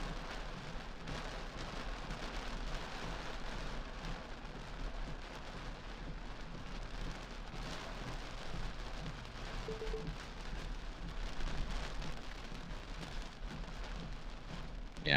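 Rain falls steadily during a tornado-outbreak storm chase, a constant dense patter on a surface that continues throughout at low volume with no voices.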